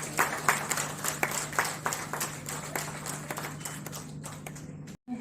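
Loud, dense applause from a ceremony audience welcoming honoured guests at a university centenary award event, a steady wash of many hands clapping that runs for several seconds before cutting off abruptly near the end.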